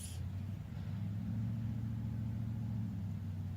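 A car's engine rumbles steadily nearby, a low continuous drone that holds for several seconds with little change in level, no voices over it.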